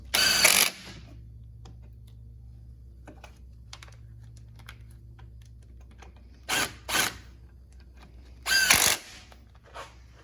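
A power tool tightens 17 mm caliper bolts on the front brakes of a Mazda CX-7, giving three loud whirring bursts: one at the start, a shorter pair in the middle, and one near the end, with quiet clicks and a low hum between them.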